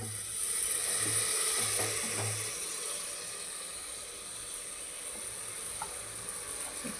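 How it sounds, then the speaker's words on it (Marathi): Washed rice and dal are added to frying masala for Khandeshi-style khichdi, a steady close sizzle with a few soft clinks and scrapes, fading slightly, with no talk. "मसाल्यामध्ये तांदूळ टाकून देऊ."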